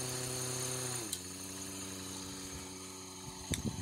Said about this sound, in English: These contra rotating blades are never going to be quiet